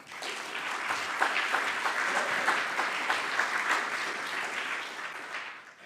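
An audience welcoming Dr. Andy Harris with sustained applause, a full room clapping steadily for several seconds before fading out at the end.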